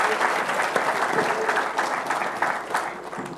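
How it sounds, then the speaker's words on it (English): A crowd applauds Dave Motz, a vice president of marketing, at a Hall of Fame event, with dense, sustained clapping filling the room at a fairly loud level without a break. "let's give a round of applause to Dave Motz, our Vice President of Marketing"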